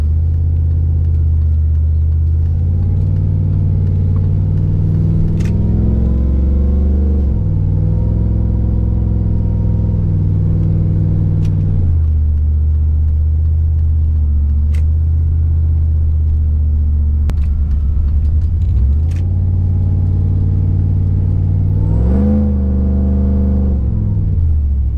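Supercharged Chevrolet Tahoe driving down the road, heard from inside as a loud, steady engine drone with repeated rises and falls in pitch as it accelerates and shifts, with no talk.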